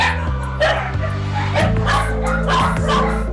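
Many dogs barking, yipping and whimpering together. The overlapping bursts come quickly and close by, forming a continuous noisy chorus.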